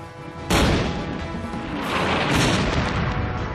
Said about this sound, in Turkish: top ateşi altındayız